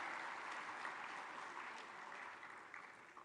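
Audience applause at a large live government event in East Java, a dense, steady wash of clapping heard at a moderate distance that slowly fades.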